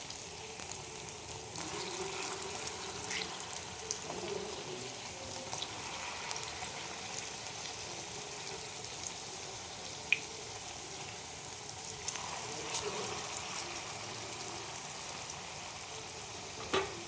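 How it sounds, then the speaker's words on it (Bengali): Snacks fry in hot oil with a faint, steady sizzle and occasional small pops, heard alone without speech. "দেখো স্ন্যাক্সগুলো আমার গোল্ডেন হয়ে গেছে, ভাজা হয়ে গেছে।"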